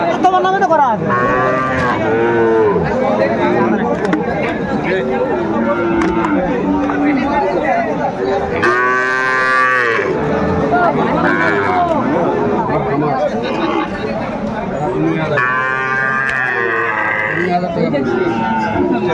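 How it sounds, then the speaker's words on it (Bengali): Sahiwal bull calves at a cattle market moo loudly several times, with long, close, drawn-out calls. Buyers and sellers talk and haggle steadily around them, and crowd babble runs underneath. "শাহিওয়ালের বাচ্চা, ষাঁড় বাচ্চা, কোয়ালিটি সম্পন্ন"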